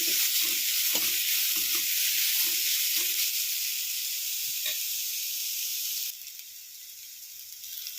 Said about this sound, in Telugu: క్యారెట్ తురుము కూడా వేసాను ఇదైతే కొంచెం ఫ్రై అవ్వాలి